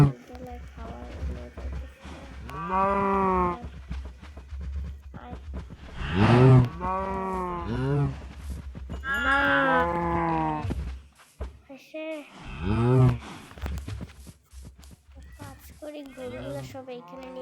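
Cows moo in a survival video game, several long loud lowing calls spaced apart, one after another, over a low steady game background.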